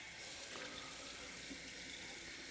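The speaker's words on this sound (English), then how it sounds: "I am going to add some stewing fluid," Tap water running into a cast iron pot to make the stewing liquid for a chicken stew, a steady close splashing hiss that continues without a break.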